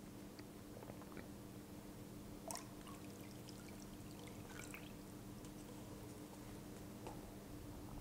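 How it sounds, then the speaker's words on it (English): Warm water and cold water tinted with dissolved instant coffee are poured into a divided tank, a faint, quiet pour with a few small drips and splashes. "Next, I'm going to add some warm water to this side and some cold to this side."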